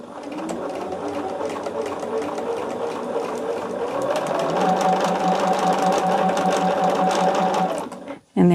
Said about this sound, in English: And then we're sewing this on at that 1/4 of an inch.